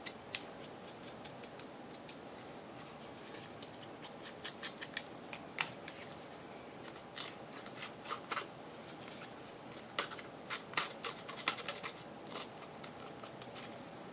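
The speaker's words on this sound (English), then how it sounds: "just sort of slightly scrape the edges, and that'll give it a little more dimension" Paper edges are scraped in a quiet tabletop craft session, with repeated short dry scratches and rasps coming in uneven bursts, close and fairly faint, and no talking.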